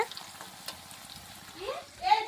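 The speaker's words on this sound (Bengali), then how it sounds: "বেরেস্তা এখন ভাজা হচ্ছে" Sliced onions fry for beresta, with sugar added, giving a faint, uneven sizzle and occasional stirring, while brief voices rise near the end.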